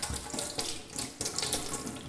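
Water mixed with cleaning chemical sprays and splashes while brewing equipment is rinsed, a close, continuous hissing gush with uneven bursts and no talking.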